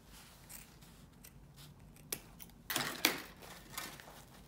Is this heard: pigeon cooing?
no